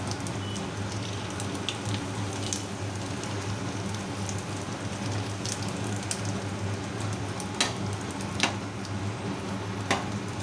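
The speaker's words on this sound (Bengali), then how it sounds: "এখানে ভাজবো এখন পাঁপড়।" Papad fries in oil in a frying pan, a steady, close crackling sizzle with a few sharper pops scattered through it and no talking.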